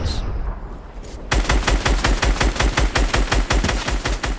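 Rapid automatic gunfire in a Fortnite match, loud and close, a steady stream of shots after a quieter opening second.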